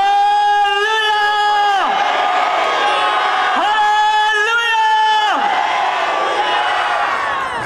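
A crowd at a Christian procession welcoming a guest pastor lets out loud, rising cheers and whoops in two long surging waves, shouting together rather than clapping.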